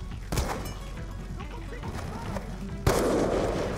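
Gunfire crackles through a Call of Duty: Black Ops 2 PC firefight, with dense overlapping shots and a sharp, louder blast near the end, close and continuous.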